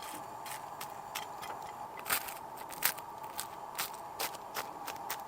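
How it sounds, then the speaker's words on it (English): Toasted bruschetta bread being bitten, crisp crackling crunches repeating at an irregular pace, close to the microphone over a faint steady hiss. "Listen to the crunch."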